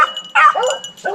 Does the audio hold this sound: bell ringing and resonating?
no